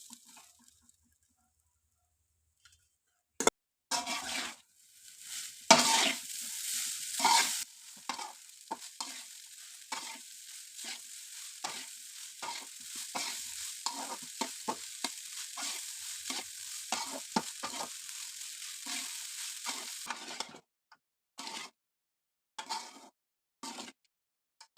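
Cooked rice is stirred into puliyodharai masala in a pan, producing a soft, repeated scraping and shuffling with a faint sizzle, in irregular bursts between near-silent pauses.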